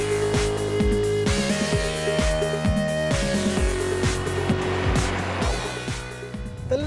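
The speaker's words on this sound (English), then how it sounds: "You also get that inherent 3-cylinder thrum at lower revs." A Volkswagen Ameo with a 1.0-litre naturally aspirated three-cylinder engine pulls through low revs with a steady throbbing thrum that rises and falls in repeated pitch sweeps as it accelerates and shifts, heard from close by with no talk over it.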